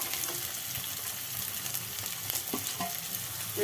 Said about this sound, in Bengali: আমাদেরকে ভালো করে ফ্রাই করে নিতে হবে